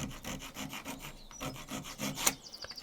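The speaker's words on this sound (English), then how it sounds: "rasp" A hand-held rasp works along the edge of a wooden arrow shaft in steady back-and-forth rubbing strokes, close and fairly loud, with a brief sharp scrape near the end and no talking.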